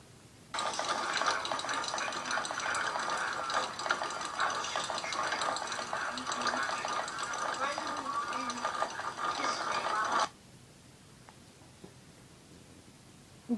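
A small pet runs fast on its exercise wheel, heard through a played-back recording: about ten seconds of continuous rattling, whirring clatter, then it stops abruptly and faint room sound remains.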